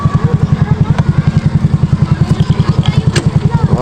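Motorcycle engine running nearby, a loud steady rhythmic thumping pulse held throughout, with a few faint voices and clatters above it.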